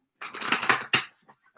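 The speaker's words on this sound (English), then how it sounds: "All right, one more shuffle." Tarot cards are shuffled close up in one short, crisp riffling burst of papery flicks, followed by a brief quiet and a few faint taps.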